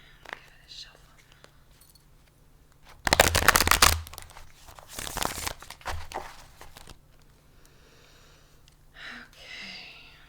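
Bursts of riffling tarot card shuffling, two loud flurries in the middle, surrounded by soft whispering and quiet rustles.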